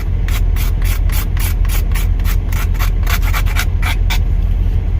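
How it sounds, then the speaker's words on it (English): A knife blade scrapes over a carved wooden spoon to sand and round its edges, a close, loud rhythm of quick rasping strokes repeated steadily, with no talking. "You can use your knife to kind of sand. You know, to get round over some edges and stuff."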